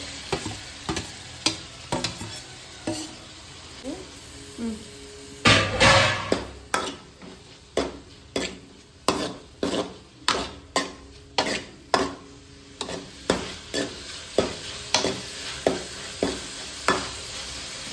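Mushroom curry masala frying and sizzling in a pan, with a spoon stirring and scraping in a steady rhythm of sharp clinks throughout, up close and without talking.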